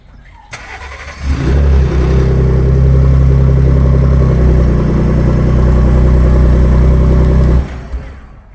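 2017 Hennessy Velociraptor 500 truck with an EcoBoost engine, starter cranking briefly before the engine catches with a loud rev, then settles into a deep, steady idle close by before shutting off.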